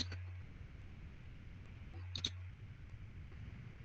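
A computer mouse gives a few sharp clicks, quiet and close, with a pair of quick clicks about two seconds in, over a low electrical hum and faint room noise.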